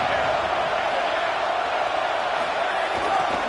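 A home crowd at an American football game roars as its defense tries to get off the field on third down, a dense, steady wall of noise holding at full volume for the whole stretch without letting up.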